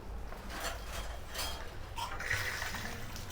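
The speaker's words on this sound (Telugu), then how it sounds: "కొంచెం నీళ్ళు పెట్టి" Water is poured into a bowl of salted mutton pieces to wash them in a home kitchen. Soft, continuous splashing and sloshing sounds close by, with no speech.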